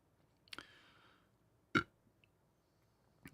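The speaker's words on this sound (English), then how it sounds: "That was a good burp." A person lets out a single loud, abrupt burp, with a softer vocal sound just before it and a small click at the end.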